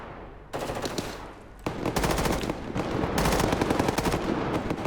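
Rapid automatic gunfire in the Roblox video game, bursts starting after a short lull and growing denser and louder, continuous volleys of close, sharp shots with no talking.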